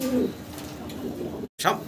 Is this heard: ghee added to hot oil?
no